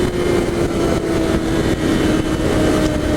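A 2014 Yamaha R6 motorcycle's engine drones steadily while riding at speed in third gear, a loud sustained hum with brief dips mixed with wind rush.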